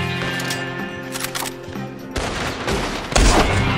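Sniper rifle gunfire in the video game Red Dead Redemption 2, several sharp loud reports in quick succession with a heavier blast near the end, set against a steady game ambience.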